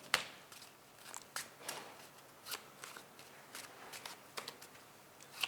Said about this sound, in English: Can you shuffle the cards?